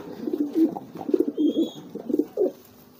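A stubborn giring pigeon coos up close in a series of short, throaty bursts, roughly one every half second, with no voices over it.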